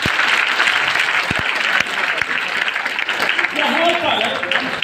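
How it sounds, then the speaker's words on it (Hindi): A church congregation applauds loudly: dense, sustained clapping that fills the room, with sharp individual claps standing out and some voices mixed in. "जोरदार ताली बजाएंगे।"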